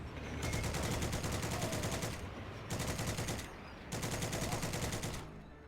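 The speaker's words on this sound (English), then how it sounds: "secondary crewmen can operate turret-mounted machine guns to engage infantry and other soft targets" Turret-mounted machine gun on a tank in the game Heroes & Generals fires three long, loud sustained bursts of rapid automatic fire separated by short pauses, with no talk.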